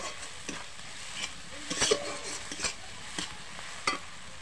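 Turmeric and chili powder spice mix sizzles in a pan while being stirred, a steady soft frying hiss broken by several sharp scraping strokes of a spoon.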